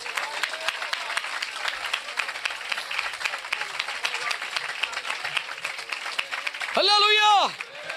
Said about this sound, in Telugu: దేవుని స్థుతిస్తూ చప్పట్లు కొనండి ఒకసారి